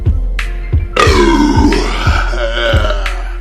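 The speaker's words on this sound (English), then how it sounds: "This split into 2 separate burps, both albeit not great." A man lets out a long, deep burp that splits into two separate belches, loud and close, with a low rhythmic beat pulsing underneath.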